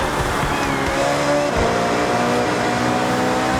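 An Italian car engine in Forza Horizon 6 revs hard off a strong launch, its steady roar climbing in pitch as it accelerates and staying loud and close throughout.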